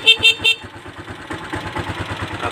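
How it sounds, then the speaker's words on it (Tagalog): A motorcycle horn tested after its fuse is refitted to restore the signal lights and horn: three short, bright beeps in quick succession, followed by the steady putter of the idling engine. "Busina."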